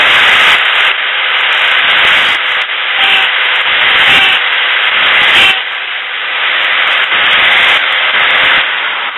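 An 8mm drill bit bores into a wooden dowel for a LARP safe arrow, giving a steady loud grinding whir that dips briefly now and then as the bit cuts down.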